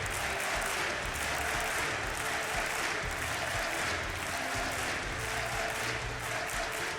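A large esports crowd cheers and applauds steadily during a pause in a Counter-Strike: Global Offensive match at DreamHack Masters Malmö 2016. The noise stays loud and unbroken throughout.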